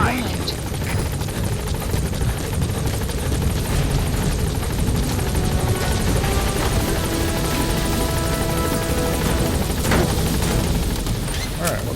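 The B-Quad helicopter from Metal Gear Solid V: The Phantom Pain idles at a landing zone, its loud, dense rotor roar continuous throughout, with radio-style talk over it.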